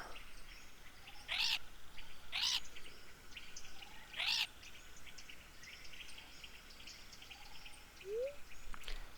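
Parrots call in the video game Stardew Valley, three bright squawks at a steady pace over a soft ambient bed of insect-like chirping, followed by a short rising whistle near the end.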